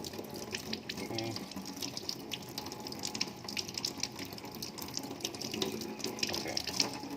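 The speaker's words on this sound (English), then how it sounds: "I just let the water drain out a little bit" Water trickles and splashes steadily as it drains from a dish of microwaved salmon, a soft continuous flow with small irregular drips and spatters, fairly quiet and close.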